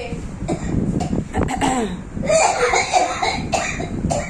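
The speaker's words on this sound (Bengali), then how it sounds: "তোমার আমাকে দেখে কাশি উঠে গেল।" An elderly woman coughs in a rapid burst of harsh, close coughs with some throat clearing, followed by louder, sputtering coughing fits mixed with laughter.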